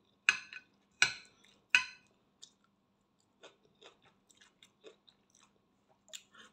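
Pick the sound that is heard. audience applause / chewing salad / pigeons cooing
chewing salad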